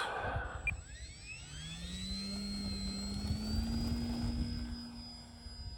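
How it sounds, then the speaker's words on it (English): An E-flite Valiant RC foam airplane takes off, its electric motor whine rising steadily in pitch and holding loud and close, with no voices. "I'm going to do a nice like little scale takeoff and fly it around a little bit"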